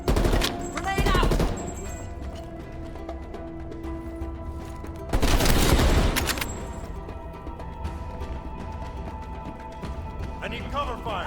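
Bursts of automatic gunfire crackle loudly in a Call of Duty Black Ops Cold War firefight, two long volleys with quieter ambience between them, while characters shout over the action.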